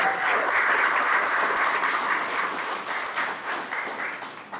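A presentation audience breaks into a burst of clapping that holds steady, then thins and fades over a few seconds.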